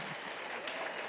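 A church congregation applauds pastor Atílio, a dense, steady wash of clapping, fairly faint and distant, lasting about a second.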